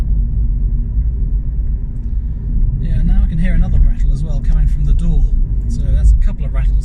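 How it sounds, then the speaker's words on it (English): A low, continuous booming drone of tyres on the road rumbles inside a moving Honda e electric car while someone talks over it. "There's a bit of a boom from the tyres again."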